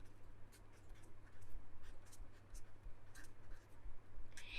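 Faint scratchy strokes of writing on a board during a biology lesson, short intermittent marks over a low steady hum.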